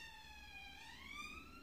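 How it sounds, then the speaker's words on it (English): A police car siren wails faintly in the distance, its tone sliding steadily as it passes, with nothing else prominent around it. "police car."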